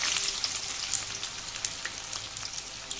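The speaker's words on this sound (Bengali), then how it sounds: "পেঁয়াজ দিয়ে দিচ্ছি" A cup of chopped onions frying in oil and ghee for a chicken roast: a steady, bright crackling sizzle with scattered pops, close up and fairly loud, with no voices.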